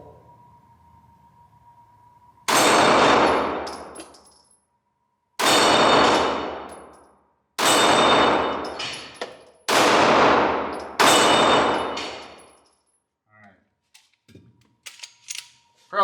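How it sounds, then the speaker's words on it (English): Five loud, close gunshots from an FN 509 9mm pistol ring out at a slow, steady pace, each blast followed by a long echoing decay, with faint clicks and handling noises afterward. "So, let's see if I can do some better shooting this time."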